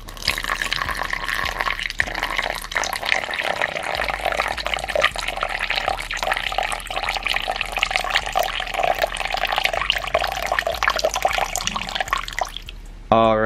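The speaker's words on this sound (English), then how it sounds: "I know a lot of you guys like to hear the sound of the water dripping" Water splashing and trickling continuously at close range inside a scorpion enclosure, a steady liquid pour with scattered drips, ending abruptly.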